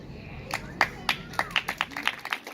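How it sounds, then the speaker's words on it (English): An audience at a live talk claps, starting as a few sparse, uneven claps and quickly building into fast, dense applause close by, with no voices over it. "you guys want to give a round of applause"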